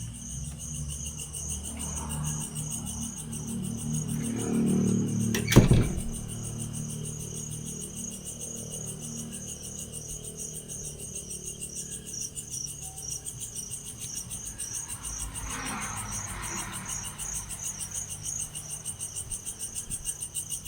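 Crickets chirp steadily at night on Siquijor Island in the Philippines, a continuous high-pitched trill running throughout, with a brief low thump partway through and no talking.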